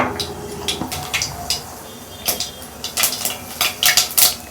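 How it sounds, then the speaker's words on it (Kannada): Mustard seeds hit hot oil in a pan, giving scattered sharp pops and crackles over a faint sizzle, with light clinks of a utensil against metal, growing denser toward the end. "ಸಾಸಿವೆ ಹಾಕ್ತಾ ಇದ್ದೀನಿ"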